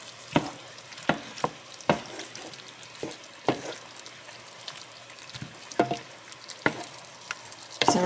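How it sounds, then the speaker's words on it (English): Ground meat with diced tomatoes browning in a pot for pasta fagioli, a low sizzle broken by irregular scraping and clacking stirs of a utensil, close and moderately quiet, no voices. "Our meat is browning up."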